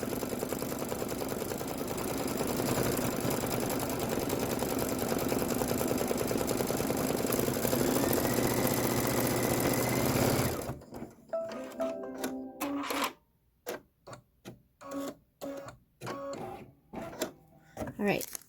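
An embroidery machine stitches a decorative fill on a Halloween pillow block with a dense, steady mechanical whir. It then slows into short stuttering bursts of stitching separated by gaps, close by and moderately loud.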